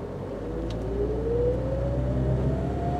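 Car accelerating while turning left at a junction, a smooth engine note rising gradually in pitch, close and steady under road rumble, no talking.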